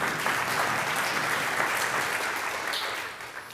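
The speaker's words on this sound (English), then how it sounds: "Please give them a round of applause." Steady applause from a church congregation at a meeting, dense clapping that holds at an even level for a few seconds before tapering slightly at the end.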